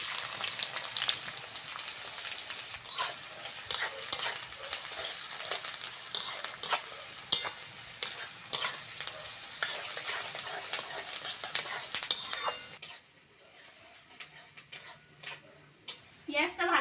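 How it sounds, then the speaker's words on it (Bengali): Chopped onions fry in mustard oil in a wok with a steady, dense sizzle and occasional stirring scrapes and clinks, continuous and close, then the hiss drops away sharply near the end to quieter scattered clicks. "পেঁয়াজটা ভালো করে ভেজে নিয়েছি"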